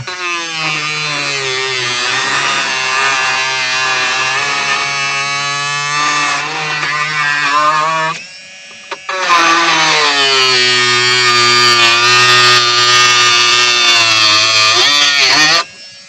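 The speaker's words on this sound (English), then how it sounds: "I've got the Dremel. And we'll get this cut down." A Dremel rotary tool cutting 3D printed model railway track: a loud, steady high whine that runs about eight seconds, stops briefly, then starts again for another six seconds.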